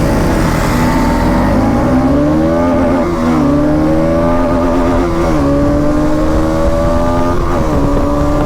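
A 2023 Bajaj Pulsar NS200 BS7 motorcycle revving and accelerating, its engine note climbing steadily through the gears with brief dips at shifts, loud, close and continuous with no talking.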